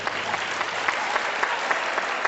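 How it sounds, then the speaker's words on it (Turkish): Studio audience applauding on a Turkish television singing competition, a steady dense clatter of many hands that holds evenly throughout the short stretch with no voices over it. "Tanımayanlar alkışlasın, tanımayanlar."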